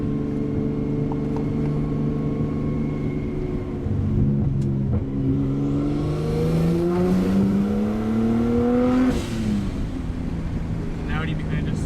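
A straight-piped Nissan Skyline with an RB engine drones loudly and climbs through rising revs, its raw exhaust tone rolling close by amid wind noise and a voice talking over it.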